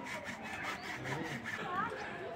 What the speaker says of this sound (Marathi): खूप हार्ड चाललंय कापायला.